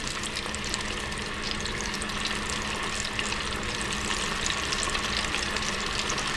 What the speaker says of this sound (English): That's the temperature for frying fish.